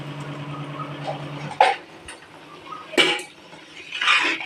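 Cut raw mango tossed with salt in a dish, with a few sharp clinks and scrapes of a utensil against the dish at irregular intervals over a quiet background.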